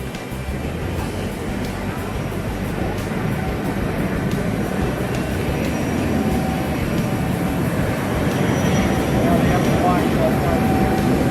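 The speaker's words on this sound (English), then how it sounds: "There's the jet behind us." A CRJ 700 jet idles nearby, its engine a steady broad roar with a faint high whine that holds level throughout, while voices talk over it intermittently.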